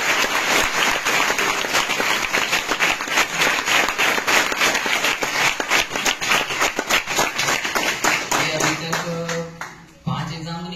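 An audience in a class gives loud, sustained applause, many hands clapping in a dense rhythmic patter that tapers off toward the end, then a voice briefly speaks.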